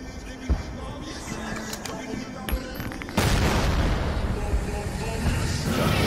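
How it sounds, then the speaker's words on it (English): A bomb blast in a Skibidi Toilet animation hits at about three seconds as a loud, sustained roar that keeps rumbling to the end, after a few sharp thumps and some faint talk earlier. "Drop the bomb."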